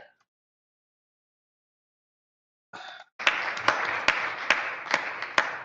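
An audience breaks into steady applause after a long silence, many hands clapping together with a few sharper claps standing out, continuing to the end.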